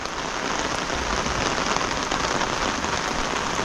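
Unseasonal April rain falls steadily over a Konkan village under dark storm clouds, a dense, even patter of drops on surfaces that holds at a constant level throughout, with no voices.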